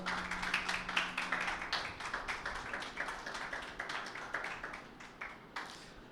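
Church congregation at a Sunday meeting clapping for Jesus, a dense run of many hands at moderate level, steady and continuous with a faint held tone under the first part.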